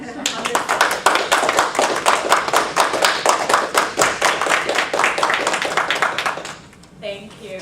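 Warm applause from an academic lecture audience welcoming a speaker to the podium, a steady run of close, crisp hand claps that fades out near the end, followed briefly by a voice.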